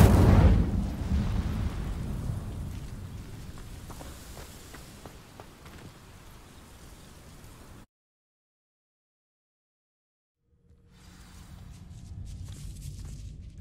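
An Incendio fire spell blasting in Hogwarts Legacy, a loud fiery burst at the start trailing off into a long crackling roar, then a cut to silence before ambient game sound returns.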